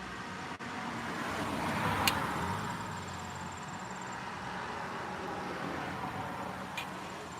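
Road traffic passing a roadside farmstead stand: a steady, moderately distant wash of car tyre and engine noise fills the whole stretch, with one vehicle swelling closer around the middle and no talking.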